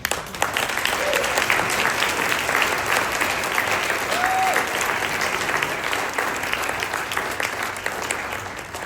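An audience at a cancer center event gives sustained applause as the Tanner sisters are welcomed on stage. The clapping is dense and steady throughout, with a few faint voices and a whoop mixed in.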